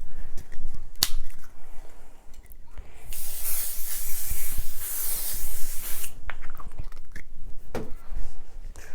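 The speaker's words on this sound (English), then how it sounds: "If you use the basting spray, it is going to get a little sticky." Basting spray hissing from an aerosol can onto a quilt in one steady burst lasting about three seconds, close and loud, with light handling clicks and taps before and after.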